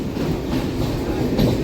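MEMU passenger train rolling on after pulling out of Penukonda junction, heard from inside as a steady rumble with rail clatter and a brief metallic squeal near the end, with no talk.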